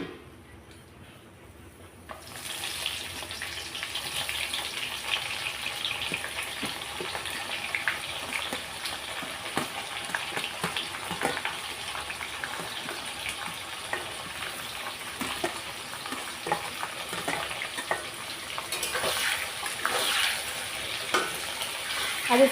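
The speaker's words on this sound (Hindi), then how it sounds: "अब इसको थोड़ा फ्राई कर लेंगे।" Onions frying in spice masala in a pan for a desi chicken curry give a steady, close, hissing sizzle that starts after a quiet moment and carries on throughout, with occasional stirring scrapes.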